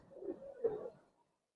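Hemar silver pigeons coo softly and low, a faint murmuring call rising to one brief peak, then quiet.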